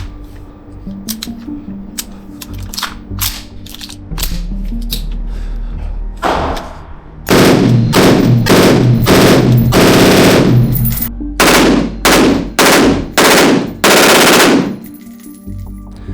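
SIG MCX rifle fired unsuppressed on its low gas setting, loud bursts of rapid automatic fire with short gaps between strings and several distinct bursts toward the end, nearby and dominant.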